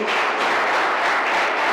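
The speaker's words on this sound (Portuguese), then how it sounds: "Vamos aplaudir nosso Deus." A church congregation claps together in a dense, continuous wash of applause that stays loud and even throughout this short burst.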